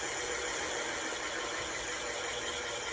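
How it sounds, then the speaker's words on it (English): The rear wheel of a 72-volt Super73 electric bike spins fast, giving a steady high whine and hiss that stays constant and close, with no talking. "Just judging by the way that wheel's spinning back there"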